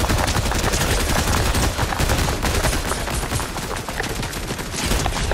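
Dense rapid gunfire in the video game Fortnite, continuous overlapping shots and machine-gun bursts forming a loud unbroken barrage for several seconds with no talk.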